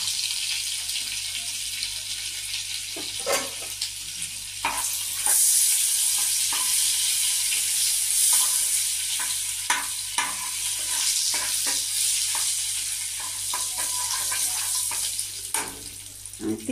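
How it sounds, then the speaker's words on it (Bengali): Paneer pieces lightly frying in oil with melted butter in a pan, a steady close sizzle with occasional stirring scrapes and clinks throughout. "পনিরগুলো আমি হালকা করে ভেজে তুলে নিচ্ছি"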